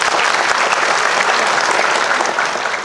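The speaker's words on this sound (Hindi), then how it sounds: "थोड़ा ताली बजा के बता दीजिए।" Audience clapping at a live comedy stage show during an awards event, a dense, loud burst of applause sustained over a few seconds before easing slightly.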